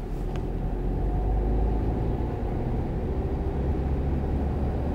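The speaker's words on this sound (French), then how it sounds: "On met la 2e. Et on accélère." A car accelerates in second gear during a driving lesson, its engine a steady loud low rumble from inside the cabin, with no talk.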